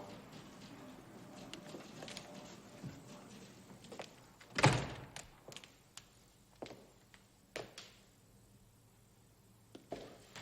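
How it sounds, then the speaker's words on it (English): A door pushed shut indoors with one solid, loud thunk midway, followed by scattered softer knocks and shuffles in a quiet office-like room. "Close the door."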